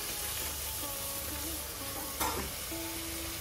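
Pav bhaji being stirred and mixed in a pan, a steady soft scraping and sizzling with one brief louder clink, continuous and close with no talking.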